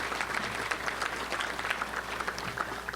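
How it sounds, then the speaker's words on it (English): Sustained applause from an audience at a touchdown club luncheon, steady dense clapping throughout with no talk over it. "let's give a round of applause to Matt for his hard work"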